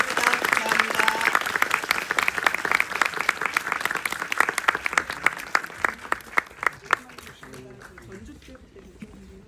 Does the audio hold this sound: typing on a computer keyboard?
no